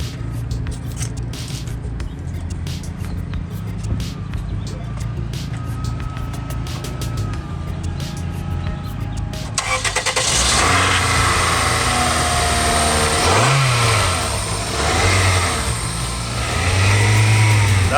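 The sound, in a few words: car engine being started with a jump starter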